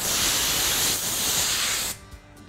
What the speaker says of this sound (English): I'll take compressed air, an air hose, and I'll blow from the back side